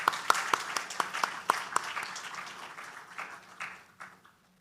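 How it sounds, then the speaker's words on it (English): Applause for panelists at an awards event, a modest group clapping with a few sharp, close individual claps standing out before the sound tapers off to silence. "can we give a round of applause for our panelists?"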